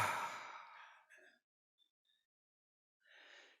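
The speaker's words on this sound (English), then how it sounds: "Breathe with me." A single slow, deep exhale sighs out close to the microphone, fading into silence before a softer breath begins again.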